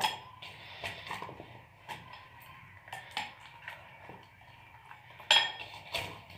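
Washed cauliflower pieces being mixed into a thick spiced batter in a metal bowl, soft wet stirring with irregular clinks of a spoon against the rim, quiet and close.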